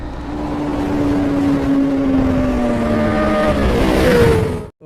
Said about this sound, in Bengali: চলেন বাইক রাইড করতে করতে বিষয়গুলো একটু শেয়ার করি